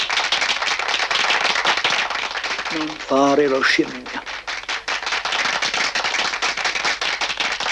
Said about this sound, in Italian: Applausi. Più applausi.